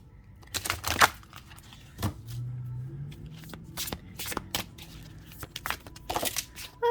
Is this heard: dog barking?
no